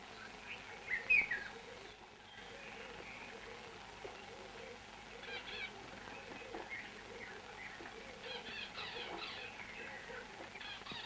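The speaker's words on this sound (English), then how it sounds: "Every branch and shrub was a home to a host of birds, both large and small." Many wild birds call and chirp in the African bush of Rhodesia, a faint, continuous chorus of high twittering calls from various distances, with one brief louder note early on.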